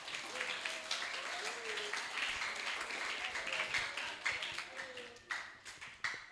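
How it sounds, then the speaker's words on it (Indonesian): Faint, scattered applause from a modest audience at a Quran recitation program in an indoor hall, uneven clapping that swells and thins across the stretch, with a few sharper isolated claps near the end. "Bisa dilihat, tepuk tangannya mana?"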